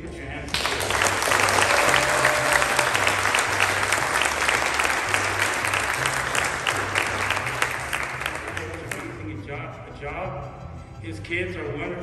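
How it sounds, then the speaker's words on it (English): An audience applauds the El Mariachi Vicla Run Committee, a dense burst of clapping that holds strong for several seconds and then thins to scattered claps, with a faint voice near the end. "I want everybody to clap about this committee. Please put your hands together."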